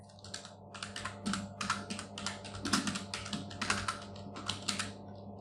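Rapid, crisp keystrokes on a computer keyboard clatter in quick bursts over a faint steady hum, close-miked and steady throughout, with no one speaking.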